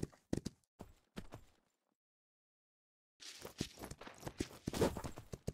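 Hooves of a horse being ridden in the Myth of Empires video game, a brisk run of clip-clop steps that stops for a couple of seconds of silence, then resumes busier and slightly louder.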